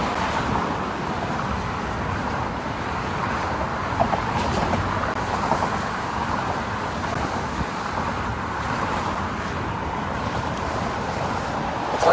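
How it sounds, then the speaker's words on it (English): Dense traffic roars steadily on the packed George Washington Bridge in Manhattan, a continuous broadband rumble of cars with wind buffeting, heard outdoors without speech. "This fucking George Washington Bridge is fucking packed with traffic"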